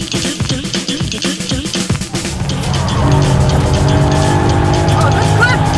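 A car is driven fast around the Nürburgring, its engine roaring loudly up close and rising to a sustained high-revving drone, with wind rush and people talking over it early on.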